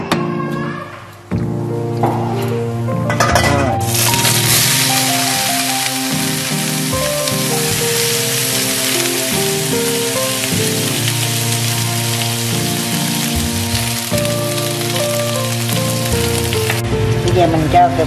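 Green beans hit a hot, heavy pan after a brief clatter, bursting into a loud, sustained sizzle of stir-frying that crackles steadily and close up before easing off near the end.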